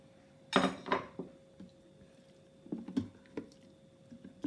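Roasting-dish juices being poured into a chicken mushroom risotto in a pot: a clattering splash and scrape at first, then scattered soft drips and light clinks, close and fairly quiet.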